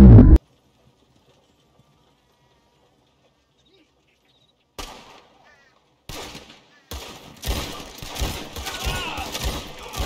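A loud burst of gunfire in Red Dead Redemption 2 duels at the start, then near silence, followed by scattered bangs and a dense, continuous stretch of game noise and effects.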